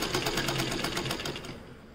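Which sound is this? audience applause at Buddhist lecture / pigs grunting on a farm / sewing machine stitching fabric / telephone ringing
sewing machine stitching fabric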